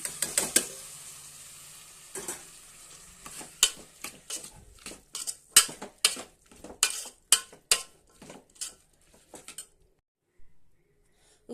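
Tomato pieces hiss and sizzle in a hot tempering pan with salt, turmeric and ginger-garlic paste, a steady sizzle broken by a run of sharp, close scraping stirs and clinks that fade into quiet near the end.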